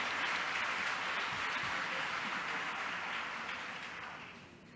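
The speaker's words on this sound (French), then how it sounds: "Et bien sûr, applaudissez Singapour qui va nous recevoir en 2028." An audience at a plenary session applauds Singapore with steady, sustained clapping that fills the room and then gradually fades toward the end.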